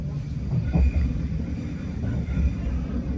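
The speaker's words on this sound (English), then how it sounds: "We are now approaching Norwich, where this train terminates." A Greater Anglia train approaching Norwich gives a steady low rumble of wheels and carriage from inside, with a few louder thumps over the rails.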